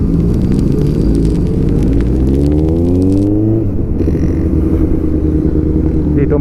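A Kawasaki ZX14R motorcycle hums loudly and steadily while being ridden on the road to Calamba, Laguna, its engine tone rising and shifting with wind rush throughout, with no voices.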